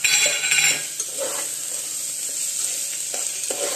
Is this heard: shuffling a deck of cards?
no